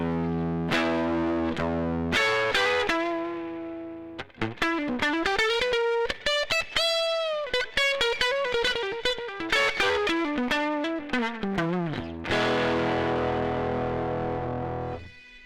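An electric guitar played through a drive pedal rings out distorted chords, then a run of quick picked notes and bends, then chords again, loud and continuous for about fifteen seconds with no talking.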